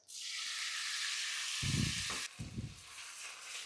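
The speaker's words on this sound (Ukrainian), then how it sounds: "Сковорідка вже розігрілася, відправляємо сюди куряче філе." Loud, steady sizzling of chicken fillet frying in a hot pan, with a few low thumps of handling partway through before the hiss quiets somewhat.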